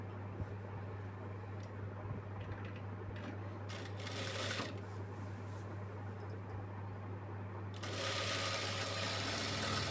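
A sewing machine running while a child's lehenga is stitched: a steady mechanical whir with fine ticking throughout, louder bursts near the middle and a stronger stretch toward the end, with no talk.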